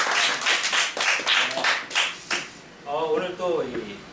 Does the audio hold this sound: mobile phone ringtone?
no